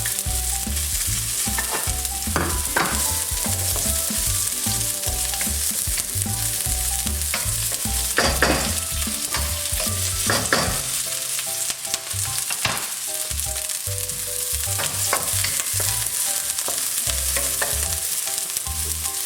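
Onions frying in a couple of tablespoons of oil in a pan, a loud continuous sizzle with frequent spatula scrapes and stirring clatter throughout, close up and with no voices.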